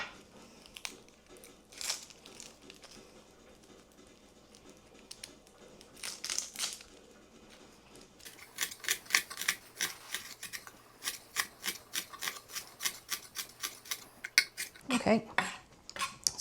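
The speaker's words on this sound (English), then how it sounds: "I'm going to cut up the shallot." A knife chops a shallot on a cutting board. Faint scraping comes first, then a run of quick, evenly spaced taps against the board, close and crisp.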